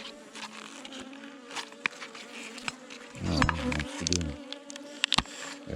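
Bees buzzing around a small nucleus hive, a steady close swarm hum with individual insects droning louder as they pass near, and brief faint taps.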